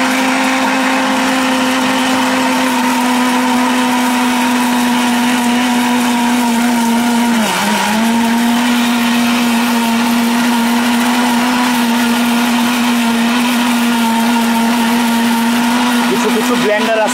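A 1600-watt double-bearing motor blender grinds chillies with a loud, steady high-pitched whine that holds constant for the whole stretch, dipping briefly once under load.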